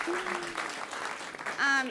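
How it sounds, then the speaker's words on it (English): Applause from a Climate Week audience rises under a speaking voice, with claps continuing steadily and a voice cutting in near the end. "Give that a round of applause."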